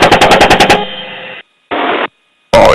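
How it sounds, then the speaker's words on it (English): An Apache helicopter's machine gun fires in combat, a loud close burst of about eight rapid shots, followed by crackly radio chatter with gaps of silence, then another burst of gunfire. "Yeah, you got lots of machine gun fire."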